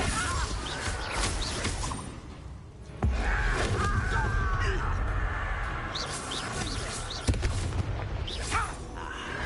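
Magic spells from Hogwarts Legacy crackle and burst in rapid succession, with sharp booming explosions and fiery whooshes layered over a continuous noisy roar of combat.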